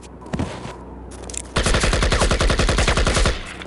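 Rapid automatic gunfire from the video game Project IGI, a dense burst of regular shots starting about halfway through and running loud to the end after a quieter stretch of scattered game sounds.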